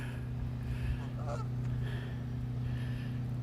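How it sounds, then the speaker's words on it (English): Geese honk outdoors in Michigan, a few scattered calls at moderate distance over a steady low rumble of background noise. "Here's some geese."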